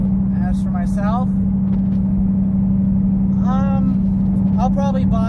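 A Shelby GT500 fitted with a supercharger whine mod holds a steady, droning engine tone throughout, while someone talks over it.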